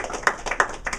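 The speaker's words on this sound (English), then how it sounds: "Clap that up." An audience claps for about a second, with a few distinct, spaced hand claps standing out over softer scattered clapping.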